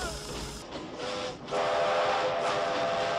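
The Decauville 6304 steam locomotive at Bligny-sur-Ouche lets out a loud, steady steam whistle. It rises from a hissy start into a sustained shrill tone that carries to the end.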